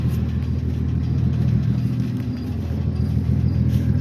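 A vehicle engine idling outdoors, converted for a traveling setup: a steady, low, continuous rumble that holds even throughout, fairly close and with no voices over it.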